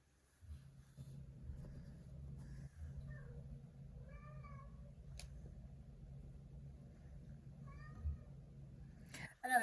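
An indoor pet cat meows twice, a few seconds apart, with short wavering calls heard fairly close over a steady low rumble in a quiet room.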